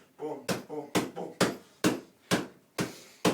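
Hammer fist strikes land on a sand bag in martial arts conditioning, seven sharp thuds at an even, roughly half-second rhythm, close and loud, with a voice speaking between the first blows.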